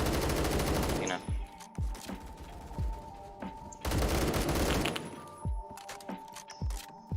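An AK-12 rifle fires in the online shooter Phantom Forces, loud rapid bursts of automatic gunfire broken by short pauses, with sharp cracks and booming impacts close by and occasional quieter shots.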